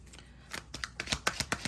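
A tarot card deck being shuffled in a quiet room, with a string of soft riffling and flicking bursts that grow sharper toward the end.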